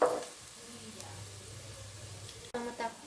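Sliced tomatoes drop into a hot pan of chicken biryani base, a loud burst of sizzle up front settling into steady frying, with a sharp clatter and renewed hiss near the end.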